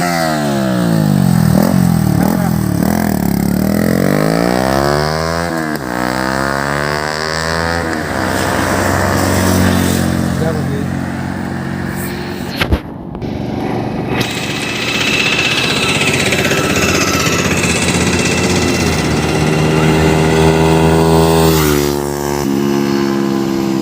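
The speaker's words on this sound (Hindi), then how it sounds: "आपने जो अभी फ्लाई बाय का साउंड सुना वो डीपी कलर के साथ था।" A motorcycle fitted with an Akrapovic exhaust silencer roars loudly past in fly-by passes, its engine pitch sweeping up and down as it approaches and recedes, with a short break midway.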